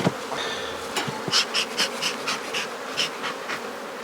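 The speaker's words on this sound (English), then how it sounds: "A lot of bees." A crowd of honeybees hums continuously during a hive inspection, with several individual buzzes rising and fading as bees fly near, alongside a few faint clicks.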